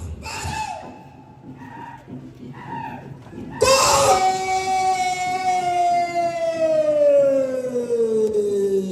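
An ambulance siren at a Toraja Rambu Solo' funeral ceremony in Karre Wailimbong, first faint wails under chanting, then blaring close and loud from mid-clip with a steady, slowly falling wail.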